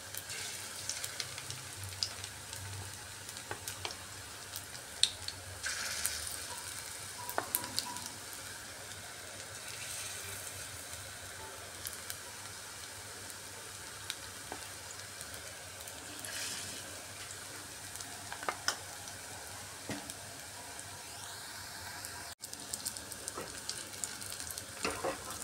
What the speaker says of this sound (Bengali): এগুলোর একদিক ভাজা হয়ে গেছে, অপর দিক উল্টে দিচ্ছি।